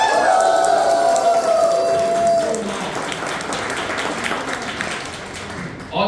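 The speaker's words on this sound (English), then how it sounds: "Give a loud round of applause if you are loving Brightiversary." A meeting audience at an anniversary event claps loudly in a dense, sustained burst that gradually thins out, heard close with a room hum, before tapering near the end.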